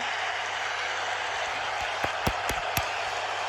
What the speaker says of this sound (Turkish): Kendimi alkışlıyorum şu anda.